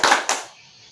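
A double hand clap by a class of students in a rhythmic single-double clapping game, two sharp loud bursts in quick succession followed by a quiet room.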